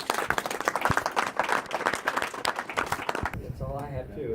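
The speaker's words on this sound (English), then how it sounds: "Let's give Brian and Joyce a round of applause." Indoor audience at a master pilot award gathering applauding an honored couple, dense rapid clapping for about three seconds that stops abruptly, followed by a quieter moment with a voice.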